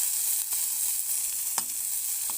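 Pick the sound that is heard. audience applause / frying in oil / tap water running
frying in oil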